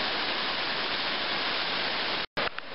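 Indian Creek runs well below a limestone bluff on a trail, giving a steady, dense rush of flowing water close by for over two seconds. A brief break near the end interrupts it before the sound resumes, with no talking.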